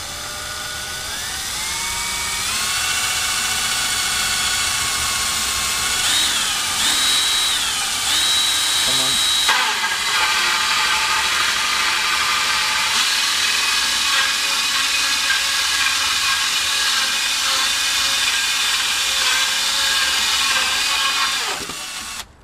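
Power drill driving a 1.5 inch hole saw through a candlestick decoration workpiece. A loud, close, continuous high whine rises in pitch as it spins up, wavers while cutting, then stops abruptly at the end.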